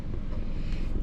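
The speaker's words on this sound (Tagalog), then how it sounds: "Lakas ng hangin." Strong wind buffets a microphone in steady, loud low rumbling gusts throughout, with no voices, recorded near the water on a trip from Cabuyao to Iloilo.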